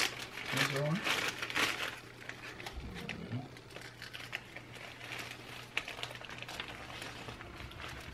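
Plastic bag wrapped around wet American persimmon seedlings is squeezed to push out air and sealed, giving close, steady crinkling and rustling with someone talking over it outdoors.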